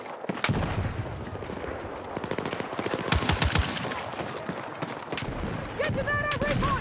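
A submachine gun fires in the video game Battlefield 6, with rapid bursts of automatic gunfire amid battle noise. Someone speaks over the shots.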